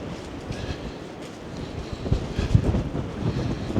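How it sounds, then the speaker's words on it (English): Strong storm wind sweeps across the beach at Mablethorpe on the Lincolnshire coast, buffeting the microphone in rough, gusty surges that grow louder toward the end, with no voices. "That wind's ferocious."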